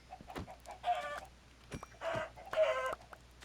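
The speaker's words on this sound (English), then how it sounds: "Very abusive with the chickens, I apologize." Minecraft chickens cluck in three or four short, nasal bursts, close and clear, with quiet gaps between them.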